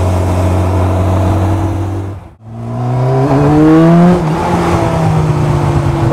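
Campagna T-Rex three-wheeler with a 1200cc Kawasaki engine, recorded on the move on a gloomy Chicago day: a loud engine note drops away briefly, then climbs again as it revs up through the gears, with no talking.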